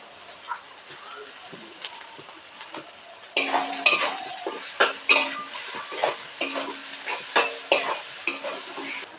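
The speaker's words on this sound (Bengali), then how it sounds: "মশলাটাকে ভালো করে ভেজে নিতে হবে" Ground cumin, turmeric and dried chilli powder frying in a pan, heard as a soft sizzle under repeated clinks and scrapes of a spoon against the pan, with a faint stretch of quiet before the stirring starts and some talk.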